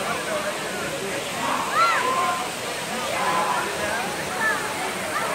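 A steady broadband rush of a waterfall at Rocks State Park fills the scene, with indistinct voices of a crowd of visitors faintly audible beneath the constant roar.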